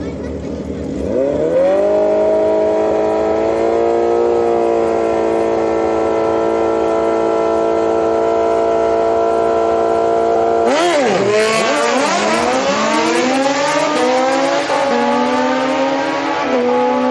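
A Toyota Corolla street car on nitrous revs and holds a loud sustained engine drone, then shifts and accelerates hard with rising pitch at a drag strip, heard from nearby and continuous throughout.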